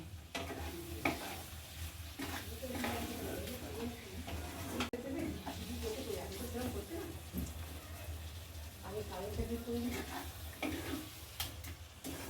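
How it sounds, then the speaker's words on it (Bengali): A ground ginger, garlic and green chilli paste is stir-fried for a Bengali-style mutton curry, giving a soft continuous sizzle with occasional scraping stirs and faint talk in the background. "আদা রসুন আর কাঁচা লঙ্কা বাটা মশলাটা এবার ভালো করে কষিয়ে নেব"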